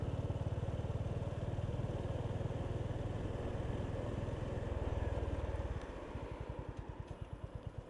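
Honda GB350 S motorcycle under way, its steady engine drone and road rumble loud and continuous, the throb slowing into a distinct, slower thump near the end as it eases off.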